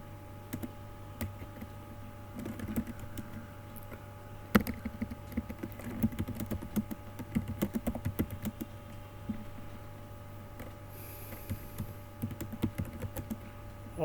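Fingers typing on a computer keyboard while working in Emacs, a quiet stream of irregular key clicks in bursts with short pauses, close and alone with no talk.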